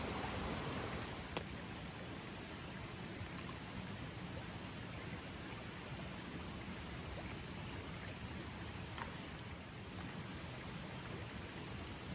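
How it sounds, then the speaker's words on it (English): A strong flowing creek rushing steadily, a continuous broadband water hiss that stays even throughout with no voices. "So I have my strong flowing creek here."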